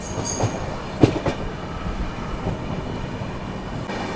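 The Barak Brahmaputra Express runs along the railway track, a steady close rumble of wheels and carriages with a few sharp clanks near the start and a faint squeal near the end.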